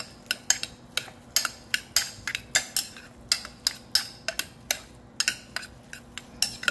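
A spoon mixes beet salad with mayonnaise in a bowl, producing a brisk run of sharp metallic clinks and taps against the dish, close and fairly regular, with no talking.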